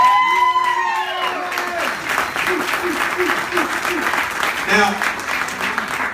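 An audience gives a round of applause at a networking event, a dense, sustained wash of clapping from a crowd while someone talks over it, with brief music tones at the start.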